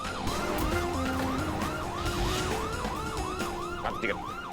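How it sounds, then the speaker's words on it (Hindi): A wailing police siren rises and falls steadily and repeatedly, close by, over rumbling traffic and engine noise. "पुलिस का सायरन सुनाई नहीं दे रहा है क्या?"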